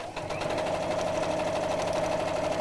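A sewing machine stitches rows into fabric with a fast, even, continuous whirr and rapid needle clatter, close and steady throughout.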